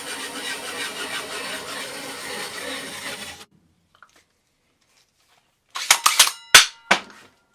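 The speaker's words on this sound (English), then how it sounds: "So let's drill this." A hole saw drills through a wood piece with a steady, rough grinding whir up close, then stops; after a pause come several sharp knocks and clatters.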